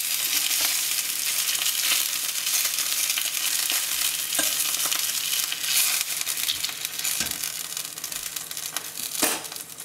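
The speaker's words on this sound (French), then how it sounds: "On va mettre les joues dans la cocotte." Meat cheeks sear in a cast-iron pot with a steady, dense sizzle and occasional louder crackles and pops, close up and continuous, with no talking.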